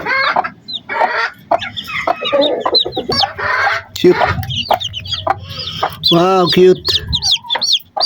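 Chickens cluck and call close by in a Philippine yard where a hen has just hatched chicks, with steady busy clucking and squawks throughout and people talking briefly over it.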